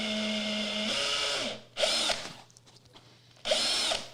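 A power drill spins a dowel chucked in it, giving a long steady whine that winds down, followed by two shorter loud bursts of spinning with a quiet gap between them.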